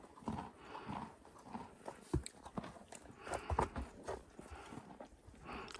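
A pony chewing nearby at a stable with soft, irregular crunching and grinding bites and scattered light thuds, fairly quiet and close to the microphone.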